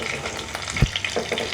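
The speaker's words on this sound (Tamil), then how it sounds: "கடுகு, மிளகுத்தூள் மூண்டையை போட்டு நல்லா வதக்கி எடுக்கிறோம்" Ground ginger-garlic paste with mustard seeds and pepper sautéing in oil for a small chicken biryani, an even crackling sizzle with a single dull knock of a spoon against the pan partway through.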